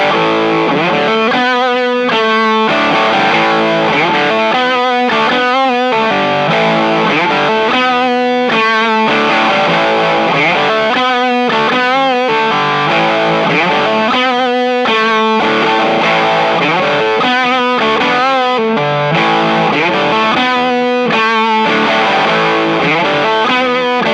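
Electric guitar driven through a Funny Little Boxes 1991 overdrive pedal, playing loud, thick distorted chords and riffs in a steady rhythm throughout, with no talking.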